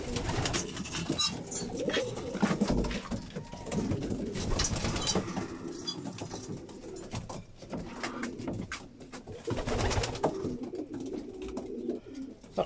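Pigeons coo steadily inside a loft, with soft overlapping calls over a dense, busy background of rustling and flock noise that continues throughout.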